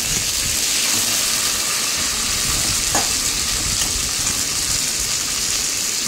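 Bitter gourd frying in ghee with panch phoron and dried chilli, a steady close sizzle that runs the whole time with faint stirring scrapes and no voices.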